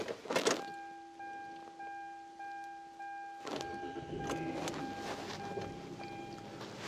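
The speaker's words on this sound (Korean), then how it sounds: "시동소리 굉장히 스무스하게 잘 걸리고 있는 그런 차량이고요" A used Kia New Opirus sedan with about 204,000 km is started from inside the cabin: a steady electronic tone with brief breaks runs first, then the engine catches and settles into an even, smooth idle.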